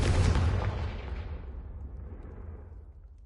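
A fiery Confringo explosion spell in a Hogwarts wizarding video game bursts loud and broad at the start, then rumbles and decays over a few seconds with no talking.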